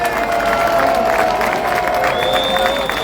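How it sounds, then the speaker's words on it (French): A large crowd at a Cameroonian political gathering for Maurice Kamto claps and cheers loudly and continuously, with steady dense applause, shouts, and a sustained high tone running through it. "que je vous demande d'applaudir très fort"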